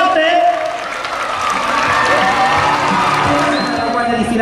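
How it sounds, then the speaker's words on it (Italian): A large crowd claps and cheers loudly and continuously at the Treviso Interforze 2023 emergency services exhibition, with voices and shouts mixed into the steady applause. "Un applauso forte!"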